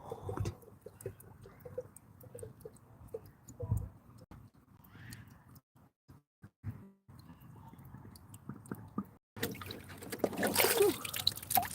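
Cold water trickles and splashes in a garden bed being dug up for strawberry plants, with irregular dribbles, rustling and handling noises, and a louder burst of running water near the end.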